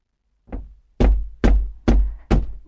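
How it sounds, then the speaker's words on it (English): Five knocks on a door, one light rap followed by four heavy, evenly spaced thuds, close and loud against silence. "the fisherman went to the priest's house and knocked on his door"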